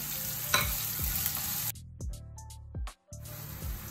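Onion, green chilli and curry leaves frying in a pan for stuffed brinjal masala, with a steady close sizzle and a few scraping stirs, cut by brief silent gaps.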